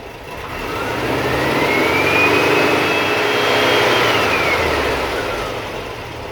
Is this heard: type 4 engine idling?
yes